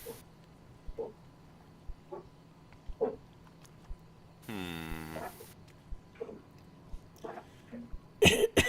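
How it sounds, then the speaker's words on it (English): Short, quiet coughs and throat clearing repeat at roughly one-second intervals during a tabletop role-playing game session, with a brief voiced sound in between. "He coughs again as he's sort of looking between you two."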